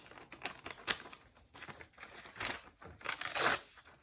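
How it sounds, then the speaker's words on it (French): Paper being torn and crinkled in several short bursts, close up, with rustling between the rips. "On va déchirer les bords pour ce rituel-là"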